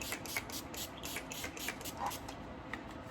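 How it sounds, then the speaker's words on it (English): Urban Decay De-Slick All Nighter hairspray hisses out of its can in a quick run of short, soft pumps, faint and close, with no talking over it. "So I always spray and then fan it out to help set."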